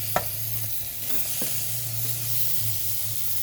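Tomatoes are stirred into a ridge gourd curry over a steady sizzle, with a sharp spatula knock at the start and a few softer scrapes after it, close up and with no speech.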